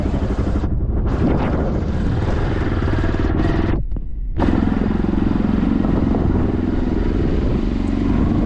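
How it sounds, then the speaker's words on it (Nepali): A motorbike ridden along a hill road near Syangja in Nepal gives a loud, close, continuous engine roar and wind rumble, with one brief dip in the middle before the drone resumes. "अहिले बाइकमा चढ्दैछ म चाहिँ"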